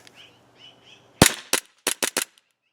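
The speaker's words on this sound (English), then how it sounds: "I'm going to put some more rounds on target." An ICS BLE Alpha gas blowback airsoft pistol fires a quick string of sharp, loud cracks: one shot, a pause, then a rapid burst of four, with faint birdsong before the first shot.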